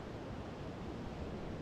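Sea waves at Ectabon Beach, a steady broadband wash of surf heard from a distance, soft and continuous with no voices.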